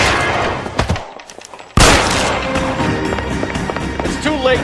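Gunfire in the video game L.A. Noire: a sudden loud blast that cuts through the scene, followed by a dense, sustained burst of noise, with voices talking underneath.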